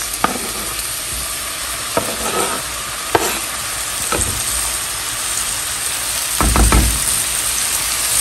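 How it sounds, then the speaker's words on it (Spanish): Poblano pepper strips being added to a hot pan, a loud continuous sizzle with several scraping stirs and a louder burst of frying as they hit the oil, no voices. "Ahora le voy a agregar mis rajas."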